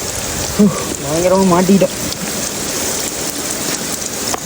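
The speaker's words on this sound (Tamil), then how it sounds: "சரியான மழை." Heavy rain pours steadily on an outdoor fishing trip while people shelter under a rock. The hiss is loud and continuous, and a voice speaks briefly over the downpour.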